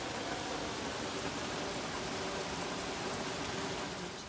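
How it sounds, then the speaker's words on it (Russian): Rain falls steadily outdoors in Estonia on a grey summer day, a constant even wash of drops that stays level from start to finish with no voices. "Дождь идет, то проходит."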